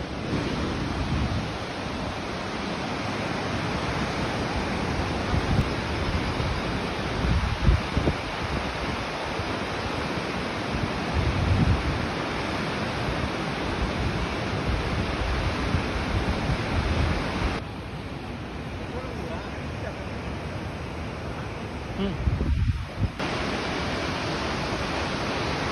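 Jog Falls waterfall heard up close as a loud, steady, broadband roar of crashing water that fills the whole clip, easing slightly for a few seconds near the end before surging back.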